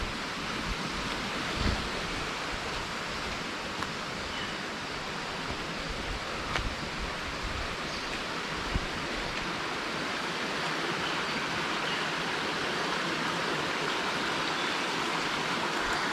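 A river rushing through tropical forest in Guadeloupe, a steady broad wash of flowing water heard continuously and fairly soft, with a few faint knocks.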